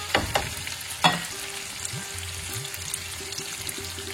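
Vegetables frying with potato and onion in a pan, a steady close sizzle punctuated by a couple of sharp stirring clatters early on, no talking.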